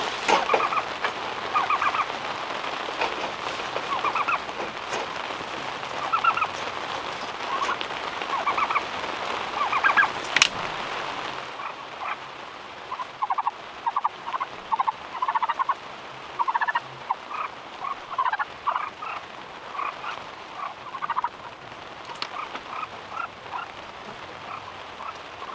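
Repeated gobbling calls from several turkeys, some close and some farther off, in bursts over a steady outdoor background without talk.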